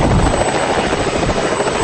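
A private helicopter throbs steadily and loudly, its rotor chop and engine roar continuous and close throughout, with no other sounds over it.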